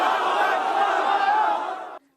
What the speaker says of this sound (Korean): 숨죽이며 기다렸던 사람들은 신에게 감사하며 환호합니다